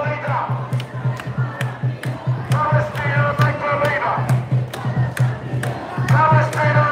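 A large protest crowd on a London street shouts in loud, rhythmic chants, voices surging and dropping in repeated bursts with sharp accented calls.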